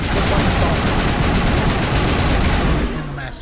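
Dense assault rifle fire in Mass Effect, a continuous loud roar of overlapping rapid shots and combat noise that tapers off near the end, with no talking over it.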